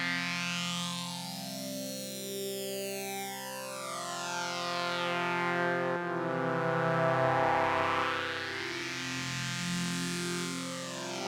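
Synth tones shaped by harmonic filtering in Ableton Live 12.2, sustained chords whose emphasized harmonics sweep up and down in slow arcs, loud and continuous with a smooth, phasing, vocal-like motion.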